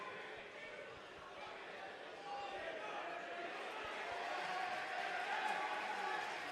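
A high school student section cheers at a boys basketball playoff game, a broad crowd roar that swells gradually, heard from a distance under the game's ambient noise.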